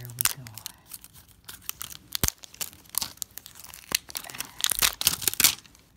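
Plastic and cardboard toy packaging being torn open by hand, with sharp ripping bursts and crinkling scattered irregularly over several seconds, close and fairly loud, with a voice talking at moments.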